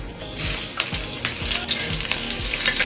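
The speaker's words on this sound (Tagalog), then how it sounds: "Lagyan na natin yung bawang. Pati na rin tong sibuyas." Garlic and onion dropped into hot oil for ginisang monggo, a loud, close sizzle bursting up and staying steady with occasional stirring scrapes.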